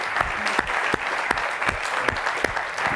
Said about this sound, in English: please join me in giving an applause to our two guests